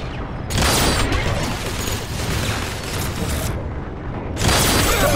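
Weapon fire from a shooter in Transformers: War for Cybertron: a loud, sharp blast opens a sustained, noisy rumble of combat, then a second strong burst hits near the end.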